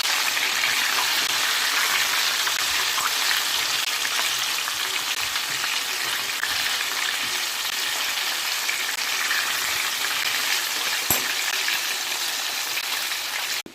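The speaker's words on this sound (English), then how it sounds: "I'm frying the chicken." Battered, flour-seasoned chicken frying in a pan gives a loud, steady, close sizzle that runs unbroken throughout, with no one speaking.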